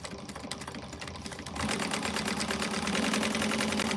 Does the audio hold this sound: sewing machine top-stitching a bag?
yes